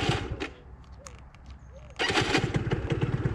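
A cold motorcycle engine on a naked stunt bike, with the choke on, cranks and catches, then runs loud and close in an uneven idle.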